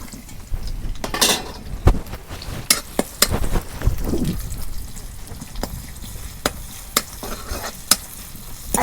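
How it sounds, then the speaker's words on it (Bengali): Chopped onion hitting hot mustard oil for a village-style Bangladeshi fish curry, a sizzle under repeated sharp spoon knocks and scrapes against the pan, close and busy. "তেল গরম হচ্ছে, এখন আমি পেঁয়াজ কুচি দিয়ে দিই।"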